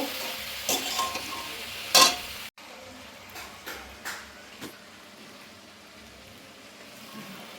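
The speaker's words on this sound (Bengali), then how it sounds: "এর মধ্যে দিয়ে দেবো আমি কেটে রাখা শাকগুলো" Chopped fenugreek greens go into a pan with turmeric and salt, giving a few stirring clatters and a sharp burst of frying, then a quieter, softer sizzle with scattered light knocks.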